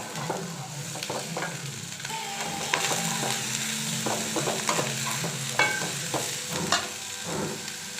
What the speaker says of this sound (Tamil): வானலில் கொஞ்சமாக வதக்கிற அளவுக்கு எண்ணெய் வச்சுக்கிட்டு அதில் வெங்காயம் பச்சை மிளகா போட்டு வதக்கிக்கலாம்.